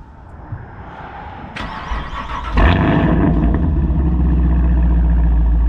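A sports car's engine cranks with a short starter whine, catches about halfway through with a loud burst, then settles into a deep, loud, steady idle rumble close by.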